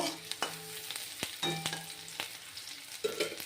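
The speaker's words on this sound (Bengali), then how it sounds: "পেঁয়াজ লাল করে পেঁয়াজটা ভাজা হয়ে গেছে" Onions fry in a pan until browned, a soft close sizzle punctuated by clinking stirring strokes, with faint tonal background sounds and no speech.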